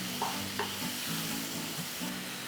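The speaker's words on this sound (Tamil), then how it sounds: "தக்காளி நறுக்கி வச்சுருக்கேன். அதையும் இதில் சேர்த்து நல்லா வதக்கிக்கலாம்." Tomatoes and curry leaves sauté in a pan with a steady, soft sizzle and occasional stirring scrapes, and nobody speaks.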